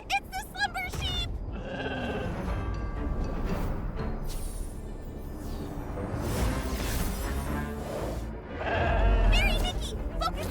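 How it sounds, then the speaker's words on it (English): Slumber Sheep from the video game Infinity Nikki bleating in a repeated, wavering call, loud at the start and again near the end, set among a busy game soundtrack and effects. "It's the Slumber Sheep!"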